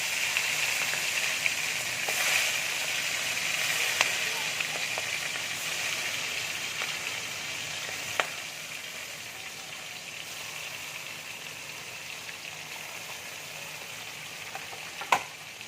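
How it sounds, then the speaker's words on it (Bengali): Prawns fry in hot oil in a kadai for chingri malai curry, giving a steady, soft sizzle and crackle throughout, broken by a few sharp clinks of utensils, with no talking. "এটা দেখো গরম হয়ে গেছে, এবার চিংড়ি মাছগুলোকে আমি ছেড়ে দিচ্ছি।"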